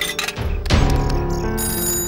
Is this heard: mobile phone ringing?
yes